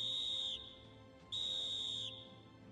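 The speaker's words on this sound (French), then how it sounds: "Avant la mise à feu, 4 coups de sifflet bref." Two loud, sharp whistle blasts before a blasting detonation, each lasting under a second and separated by a short pause, in an otherwise quiet setting.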